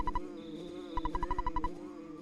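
Cartoonish insect buzz from a bee character in EarthBound on Nintendo Switch, heard as two quick blips and then a rapid run of about eight evenly spaced buzzy pulses over steady game music.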